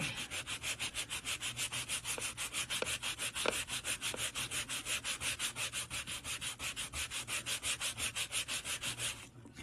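Rapid, rhythmic back-and-forth sanding strokes on cured polymer clay rasp steadily up close for several seconds, then stop abruptly.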